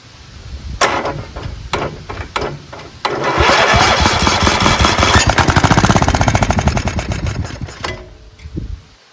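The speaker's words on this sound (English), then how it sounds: "It's not a blown engine, it's a running engine." A Craftsman LT1000 lawn tractor with a 14 HP Kohler Command engine cranks with a few short starter bursts, then catches and runs loud and steady for several seconds before dropping off at the end.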